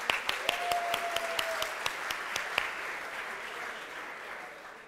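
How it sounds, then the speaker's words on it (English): Audience at a design thinking entrepreneurship session clapping together, a dense burst of applause with sharp individual claps standing out early, then thinning and fading out. "give yourselves a round of applause"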